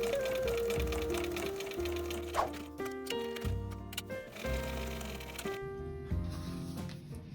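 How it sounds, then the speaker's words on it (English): A sewing machine top stitches the long edges of bag strap connectors, a steady close mechanical whirr running throughout at an even loudness. "we just want to top stitch these long edges"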